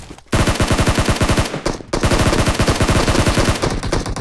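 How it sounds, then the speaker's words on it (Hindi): Automatic gunfire in the mobile battle royale game BGMI/PUBG, loud, rapid, close-range bursts of rhythmic shots with a brief pause partway through before firing resumes. "स्कारल भी मिल गई ब्रो, गोलियां बारूद चलते हुए"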